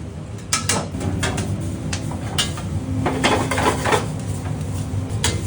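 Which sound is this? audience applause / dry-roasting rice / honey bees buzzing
dry-roasting rice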